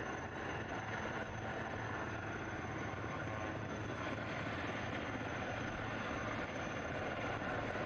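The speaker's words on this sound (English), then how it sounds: "The Marine Commandos will anytime now be lifted from the hostile shore by the Sea King helicopter." A Sea King helicopter hovers to lift Marine Commandos off a shore during an armed forces equipment demonstration, its steady loud rotor and engine roar filling the whole stretch without a break.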